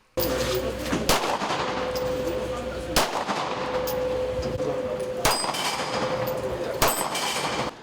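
Several sharp gunshots crack out at irregular intervals at a shooting range in Chechnya, over a steady background hum, fairly loud and close, with faint voices in the mix.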